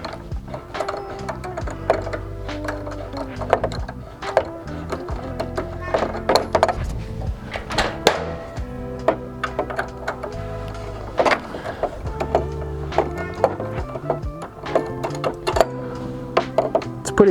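A long bolt on a Hepco & Becker solid guard on a Triumph Tiger 900 motorcycle is ratcheted loose. Rapid clicking ratchet strokes repeat close and steady with short pauses, alongside faint mechanical rattles.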